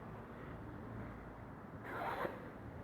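An invisible zipper rasps briefly against fabric during sewing work, a short soft rubbing swipe near the end that sits over steady low room hum.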